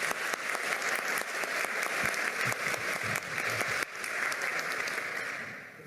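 An audience in the Government Palace in Peru applauds during a Defender of Democracy medal ceremony honoring a senior police officer, steady clapping with brief dips and a gradual fade.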